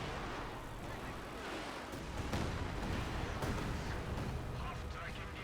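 An artillery barrage in the World War II strategy game Company of Heroes 2 rumbles as a dense, continuous roar of shell blasts, with sharper booms punching through around the middle, likely with a voice over it.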